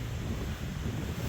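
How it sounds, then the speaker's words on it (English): Cold wind blowing across a microphone outdoors in an autumn vegetable garden, a steady low rumble with faint buffeting, fairly quiet and with no voices. "The wind has gotten cold."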